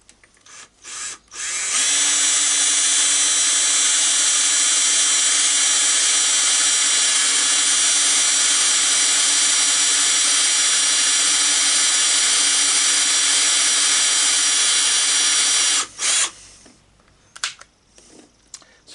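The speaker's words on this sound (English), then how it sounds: "Well, if this metal wasn't so thick and tough, it would be a self-tapper, so I'm going to drill it." A power drill runs continuously for about fourteen seconds, a loud, steady high-pitched whine as a small bit bores through thick, tough metal, then stops.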